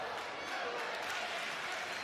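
Crowd cheering and applauding at an NCAA men's volleyball match, a dense, steady burst of noise filling the whole short moment without a break.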